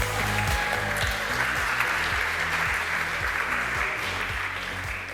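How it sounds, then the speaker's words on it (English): Conference audience gives a steady round of applause for a speaker at a tech talk, dense clapping filling the hall with a low rhythmic music bed underneath, holding throughout and easing slightly at the end. "Big round of applause for Chris."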